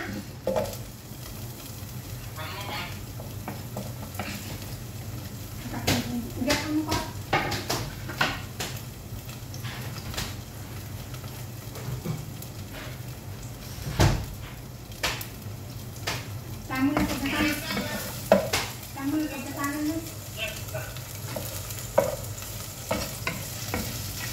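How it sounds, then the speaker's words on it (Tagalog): Onion and garlic sautéed in a pan, a moderate sizzle with irregular stirring clinks and scrapes, close, with a low hum beneath and a voice speaking at times. "Ginisa na natin ang sibuyas sa bawang, guys."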